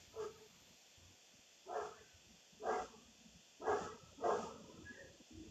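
A dog barks in short single woofs, five or so spaced about a second apart, fairly faint and distant with no talk over them.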